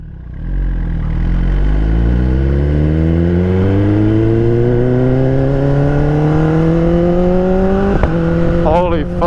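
A 2023 Kawasaki ZX10RR motorcycle accelerates hard, close and loud, its engine pitch climbing steadily for several seconds before a quick upshift and another rising pull.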